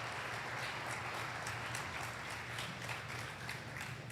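A church audience applauds steadily throughout, a dense, sustained wash of many hands clapping together with no voices standing out.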